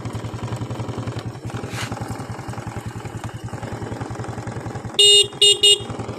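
A Honda Wave 125X motorcycle engine idles steadily up close with an even, rapid putter throughout, joined near the end by three short horn blasts.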